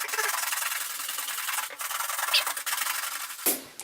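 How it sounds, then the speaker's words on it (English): A brush is stroked briskly back and forth across a leather shoe to buff it, producing a continuous close, dry scrubbing hiss with slight rhythmic pulses and brief pauses between passes. "I personally prefer to use the brush to buff up the shoe"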